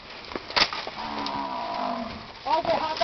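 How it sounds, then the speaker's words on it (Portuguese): A cow bellows in distress during a rescue, a long drawn-out moo with a second call rising near the end, close and clear over outdoor background noise. "Olha o berrado da vaca. A bicha tá berrando"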